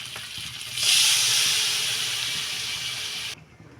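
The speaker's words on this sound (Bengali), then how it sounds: "এখন আমি এটা মাংসটা সেদ্ধর জন্য ঝোল দিয়ে দেবো" Broth is poured from above into a pot of braised chicken curry, giving a steady splashing hiss that starts suddenly, holds for a few seconds, then stops.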